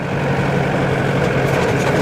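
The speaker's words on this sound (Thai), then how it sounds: "แท็กเตอร์โอมนะครับ" A farm tractor engine idles steadily with a low, even rumble, close and loud throughout with no talking.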